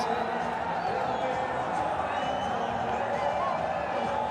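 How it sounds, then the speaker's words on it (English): Cricket crowd at a Pakistan versus Bangladesh match roars after a fielder takes a catch, a sustained loud wall of cheering and whoops with a commentator's voice underneath. "the crowd are delirious"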